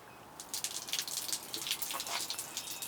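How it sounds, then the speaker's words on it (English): Water poured onto a potted Haworthia truncata succulent splashes and trickles steadily, with soft dripping as it drains, close and fairly quiet. "And that's what deep watering looks like. Water coming out of the bottom holes of your pot there."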